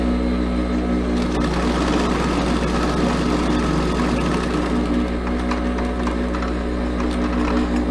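A sewing machine runs steadily while stitching a flap pocket on a garment, an even, continuous motor hum with fast rhythmic needle clatter, close and alone without talk.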